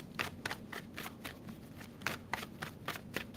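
A tarot card deck being shuffled, with repeated crisp riffling bursts spaced about every half second, close and moderately loud over a low background hum.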